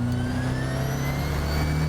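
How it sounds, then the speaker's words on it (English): A Ford RS200 turbo engine sits under load with a dense, steady roar, and a faint rising turbo whine runs over the top. The sound is close and continuous, with no talk. "But as soon as the turbo comes on at certain revs,"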